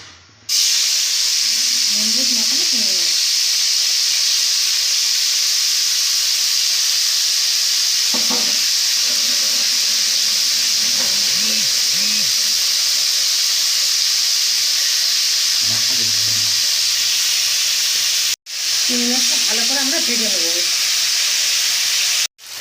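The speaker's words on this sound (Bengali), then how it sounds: "তেলটা গরম হয়ে গেছে এবার আমরা চিংড়ি মাছটা দিয়ে দেবো" Shrimp dropped into hot mustard oil give a loud, continuous hissing sizzle that fills the whole stretch, with a voice speaking in short bursts over it.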